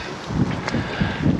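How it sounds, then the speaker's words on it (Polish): Strong, cold wind blows across a lake during a carp fishing session, gusting and buffeting the microphone in low rumbling surges over a constant roar, with no voices. "wiatr bardzo duży wieje"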